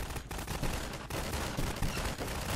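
Bots fire bursts of gunfire in Garry's Mod during a realistic ACF bike test, a dense, continuous crackle of overlapping shots at fairly low volume with no break.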